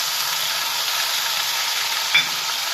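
Ginger, tomato and onion paste fry in a pot while being stirred, a steady close hiss of sizzling with one small knock of the spoon near the end.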